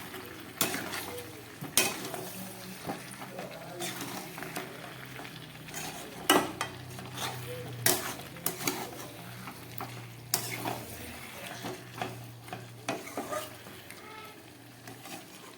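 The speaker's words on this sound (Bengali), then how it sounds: "সব দিয়ে আমি খুব ভালো করে একটু কষিয়ে নিয়ে জল দিয়ে দেবো।" Chicken curry is stir-fried in a pan with four green chillies and fried potatoes, giving a soft sizzle under repeated sharp scrapes and knocks of a spatula against the pan at irregular intervals, close by.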